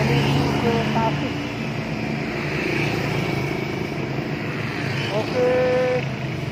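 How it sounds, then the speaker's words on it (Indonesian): Prima Jasa bus on an economy air-conditioned route from Jakarta toward Tasik through the winding West Java roads, a loud steady engine and road roar passing close, with a horn sounding near the end and talk over the top. "Kita lihat Prima Jasa dari Jakarta menuju ke Tasik."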